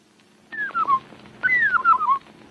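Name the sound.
birds whistling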